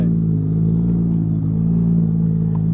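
A 2JZ turbo engine in a Nissan S15 Silvia rumbles deep and steady through a loud 4-inch exhaust, idling with a slight revving throb, close by and continuous.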